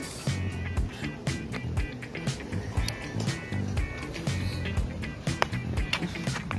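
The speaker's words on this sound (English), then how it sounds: "my mom decides to try to ride my penny board again" A penny board skateboard rolls outdoors at Central Park, giving a steady low wheel rumble across the whole stretch with repeated clacks and bumps over the surface.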